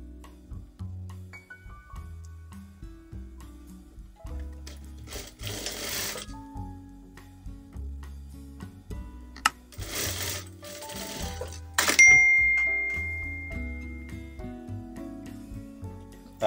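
A sewing machine stitches an off-shoulder dress in several runs of rapid mechanical chatter, separated by brief pauses and small clicks of fabric handling.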